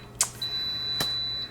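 A Wolfgang Puck 2-pound bread maker gives a short electronic beep close by, a single thin tone held for a moment against a faint background hum, with a couple of small knocks around it.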